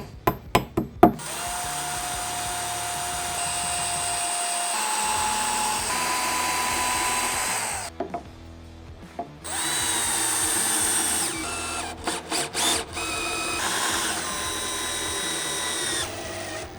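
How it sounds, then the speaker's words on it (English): A power drill pre-drills pilot holes in wood for screws while a mid-century modern TV stand is built, starting with a few sharp knocks and then running in long, steady whirring bursts with short pauses, close and loud, with no talk. "I'm gonna pre-drill with a bit that's just smaller than the screw that I'm using."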